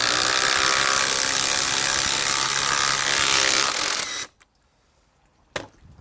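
A new Makita high torque impact driver runs loud and continuous while driving screws into wood, buzzing and hammering for about four seconds before stopping abruptly, followed by near silence and one short burst.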